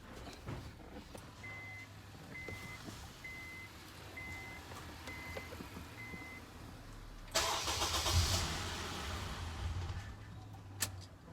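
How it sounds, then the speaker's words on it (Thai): A low idle rumble with a short run of electronic beeps, then a Honda Accord engine cranks and roars to life nearby and keeps running. "ผมจะทำการสตาร์ทเครื่องยนต์นะครับ"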